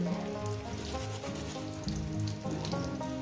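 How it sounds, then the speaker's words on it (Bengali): Spices with cumin, coriander and turmeric powders and ginger paste sautéing in a pan for a prawn chochchori, a dense steady sizzle and crackle with faint stirring scrapes, close and continuous with no voices. "এবার এটাকে আমি মশলার সঙ্গে মিনিমাম এক দেড় মিনিট ধরে এটা কষিয়ে নিচ্ছি"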